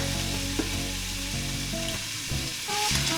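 Ground meat sizzles and fries steadily in olive oil inside a Ninja Foodi, a close, continuous crackle with occasional scraping and stirring of a mix-and-chop tool.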